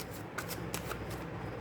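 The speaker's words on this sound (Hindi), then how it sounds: "मैं एक कार्ड और लेना चाहूँगी।" A tarot card is slid from the deck, giving a short, soft papery shuffle with a couple of light flicks, close and quiet.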